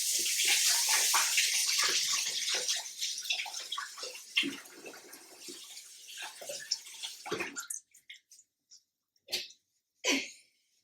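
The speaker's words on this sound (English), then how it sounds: "I'm going to wash off the eggshells." Eggshells washed under a running tap, a close, steady rush of water that gradually thins into a few splashes and brief drips before stopping.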